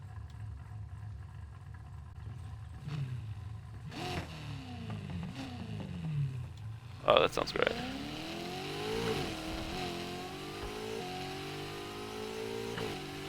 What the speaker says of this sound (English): the Corvette here, it really just, it doesn't sound like any other car I've ever known